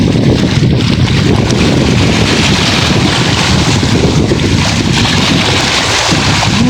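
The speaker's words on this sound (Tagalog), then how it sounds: "Grabe alon." Loud, steady rush of water and wind buffeting the microphone, with a continuous roar of big waves churning close by at a fishing spot and no voices.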